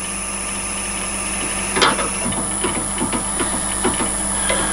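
Lathe turning stainless steel between centres while a drill wanders in the workpiece, a steady whine with a constant high tone and irregular ticking, scraping bursts, close and loud without talk.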